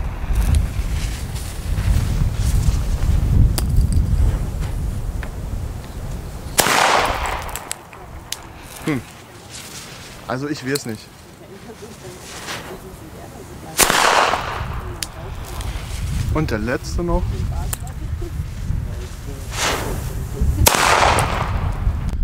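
Outdoors in windy conditions, several firecrackers, loud bangers, explode one after another at intervals of a few seconds, each a sharp crack with a brief tail. Someone talks in between, and constant wind rumbles underneath.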